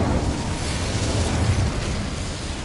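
The Incendio fire spell is cast in the video game Hogwarts Legacy, a loud, steady whooshing roar of flame that holds for a few seconds with no talking.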